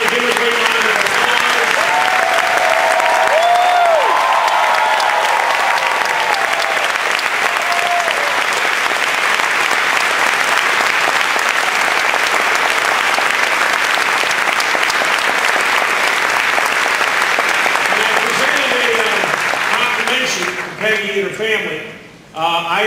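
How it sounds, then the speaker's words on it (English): A large audience gives a big, sustained round of applause, dense clapping filling the room for about twenty seconds before trailing off, with some voices underneath. "Give them a great round of applause."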